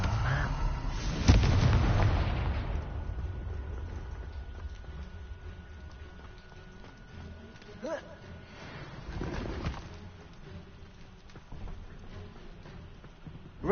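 One loud blasting-curse explosion from the Confringo spell in Hogwarts Legacy booms out, then decays into a long rumbling tail, with a couple of fainter pops following later amid ambient game sound.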